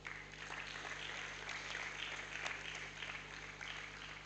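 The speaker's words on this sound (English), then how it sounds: "You must continue to clap" Steady clapping from an audience at a university matriculation ceremony, continuous and fairly even, over a faint background hum.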